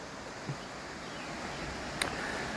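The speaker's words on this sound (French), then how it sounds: "On entend la cascade qui est dans le coin" A waterfall nearby on Réunion island, heard as a steady broadband rush of falling water with wind-like texture, constant and moderately distant, with a brief click partway through.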